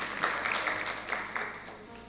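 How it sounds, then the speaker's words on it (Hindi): A church congregation claps during a sermon, short uneven bursts of applause rising and fading over about two seconds, moderately distant, with no speech over it. "वेरी गुड, जोरदार तालियां।"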